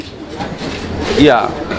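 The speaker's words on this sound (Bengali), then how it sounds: "এটা হচ্ছে নর কবুতর আর ওইটা হচ্ছে মাদি কবুতর" Pigeons coo close by in a soft, throaty call, a male and female pair of Indian Akashi pigeons, with a murmur of human voices in the background.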